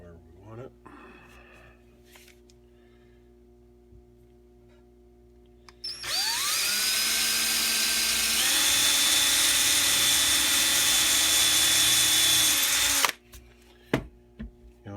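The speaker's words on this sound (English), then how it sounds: "I think 3 screws on the side ought to do us." A power drill drives screws into glued wood, a steady loud whine lasting about seven seconds, its pitch stepping down partway through as the screw seats, with quieter workshop sounds before and after.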